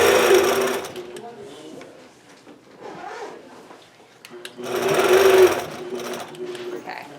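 A sewing machine quilting with a ruler, stitching in two loud runs separated by a slower, quieter stretch while crossing a seam, with a sliding, clattering hum close by.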